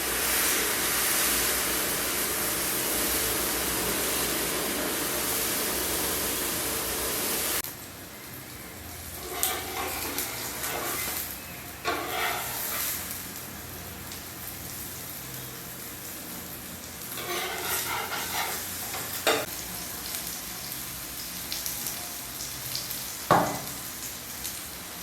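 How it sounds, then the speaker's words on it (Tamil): Ragi flour dosa batter on a hot griddle, a loud steady hiss that drops abruptly, then continues as a softer sizzle with occasional scraping and clinks. "இப்போ நம்ம அந்த கேழ்வரகு மாவு தோசையை ஊற்ற போகிறோங்க."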